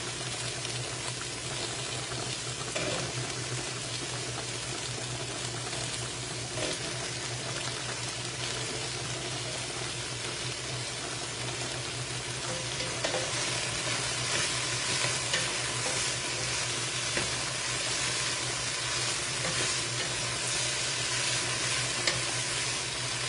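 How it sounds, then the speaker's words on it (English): Zucchini sizzles in a pan in a steady, soft hiss and crackle lasting throughout, with occasional faint stirring scrapes and no voices. "now I'm going to go ahead and throw in the zucchini and cook for another 2 minutes"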